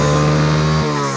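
A motor vehicle engine and exhaust run with a loud, steady drone and strong low hum, which drops sharply as the revs fall partway through.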